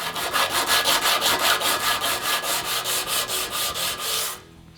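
Hand sanding on a modified metal grille shell, a close, loud, rhythmic back-and-forth scraping with about twenty even strokes, stopping abruptly at the end.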